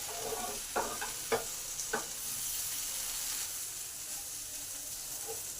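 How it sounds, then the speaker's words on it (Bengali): Potato and okra pieces fry in a pan for bhindi aloo masala while being stirred, a steady sizzle broken by a few quick spatula scrapes and clinks early on, no voices. "আলু আর ঢেঁড়সগুলোকে নাড়াচাড়া করে করে রান্নাটা করে নেব"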